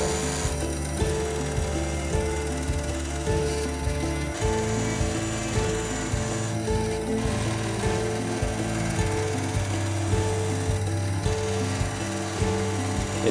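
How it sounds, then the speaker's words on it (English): A bandsaw fitted with a metal blade cuts a 3D-printed plastic helmet part, a loud continuous motor drone with a grinding, rattling cut that shifts in pitch as the piece is fed, close up and without speech. "I'm going to simply cut it out on my bandsaw, which has a metal blade installed."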